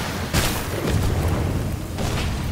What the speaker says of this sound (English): That bomb did not help at all.